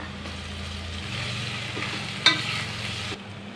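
Chicken curry masala with turmeric and ginger garlic paste frying in a pressure cooker, a steady soft sizzle with a faint stirring scrape partway through before the sound cuts off.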